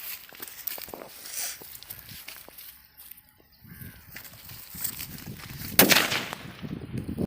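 A 4-inch Valangaiman country firecracker explodes outdoors in a single sharp, loud bang followed by a brief crackling tail, with quiet ambient noise and light rustling before it.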